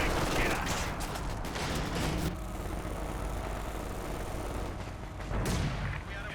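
Howitzer artillery barrage in Company of Heroes 2, heard as dense rumbling booms and crackling blasts that rise to loud peaks near the start and again late, with a steady roar between, alongside game gunfire.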